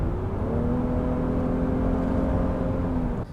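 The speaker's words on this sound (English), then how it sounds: "a real V6 and a good sounding engine like this" A Honda Pilot's V6 engine heard from inside the cabin, holding a loud, steady droning hum with rising harmonic tones as it pulls, then cutting off abruptly near the end.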